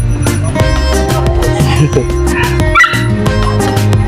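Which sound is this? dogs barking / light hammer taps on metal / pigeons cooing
dogs barking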